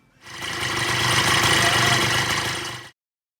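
A rebuilt Kawasaki KXF80 quad engine runs steadily for a few seconds, a loud, even buzzing drone that cuts off abruptly into silence.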